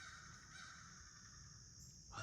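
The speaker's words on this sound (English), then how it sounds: "The crows are going crazy over there." Crows cawing outdoors near a roadside creek bed, faint and distant, the harsh calls blending into a steady background with a slightly louder burst at the end.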